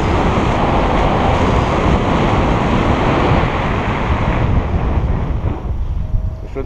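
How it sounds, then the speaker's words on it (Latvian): Strong but smooth, laminar wind on a paragliding flight roars over the microphone as a loud, continuous rushing buffet that slowly settles slightly near the end. "Šodien ir vējš stiprs, bet viņš ir ļoti, kā saka, laminārs."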